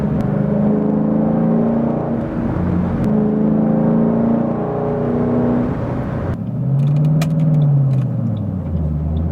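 A 2007 Ford Mustang GT convertible with the top down, its V8 engine revving and pulling hard under acceleration with rising and falling tones as it climbs through the gears, loud and close throughout.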